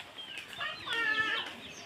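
A chicken on a village farm clucks close by in a short series of rising, throaty clucks, fairly quiet against a faint background with no talk.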